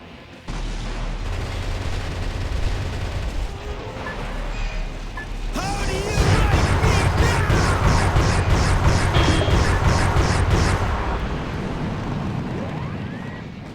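Heavy gunfire and booming blasts from M1 Abrams tanks in the Metal Wolf Chaos video game, a dense loud barrage that swells after a few seconds into rapid repeated bursts and crashes, then eases back to a rumbling battle din.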